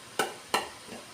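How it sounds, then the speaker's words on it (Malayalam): Onions sauté in a pan with crushed fennel powder for a coconut chicken dish, and a spatula scrapes through them twice in sharp strokes, then once more softly, over a faint background. "ഇപ്പോൾ ഉള്ളിയെല്ലാം ഒന്ന് ചെറുതായി വഴണ്ട് വന്നിട്ടുണ്ട്."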